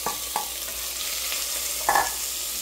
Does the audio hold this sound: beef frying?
yes